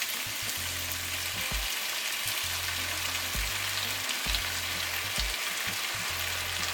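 Chicken stir fry sizzles steadily in a pan as sauce goes in, a continuous hiss with a few soft knocks and scrapes from a utensil, fairly close and with no talk.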